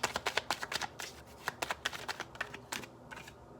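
Tarot cards are shuffled and drawn by hand, making a quick run of close, crisp riffling snaps and flicks in an uneven rhythm that thins out toward the end.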